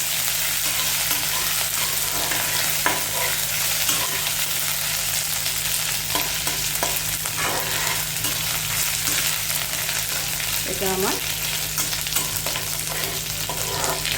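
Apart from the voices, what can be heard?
ginger and green chilli paste frying with curry leaves, cumin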